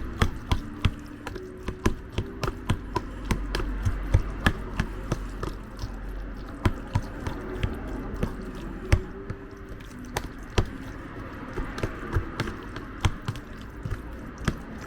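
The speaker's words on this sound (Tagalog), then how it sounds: "Nasa natin yung kamay. At continuous lang natin yung paghalo." Avocado salsa being mixed by hand, with a steady stream of soft wet squelches and small slaps close up, repeating in an uneven rhythm.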